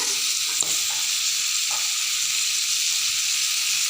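Vegetables fry in a pan while vegetable pulao is being cooked, a steady, dense sizzle with a couple of faint stir clicks, close and without talk.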